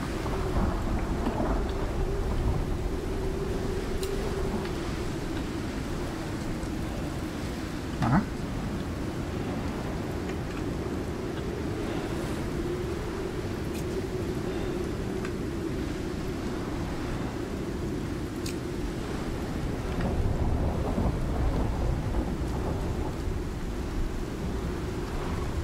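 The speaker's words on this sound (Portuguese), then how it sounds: "Tava levando dano já da chuva" In a video game, steady rain pours with a deep continuous thunder rumble, a long unbroken storm bed with a brief sharp crackle partway through.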